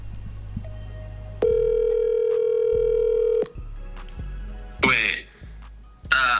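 An outgoing telephone call on a live stream gives a steady ringback tone in long repeated pulses, followed by a throat clear and a short burst of talking near the end.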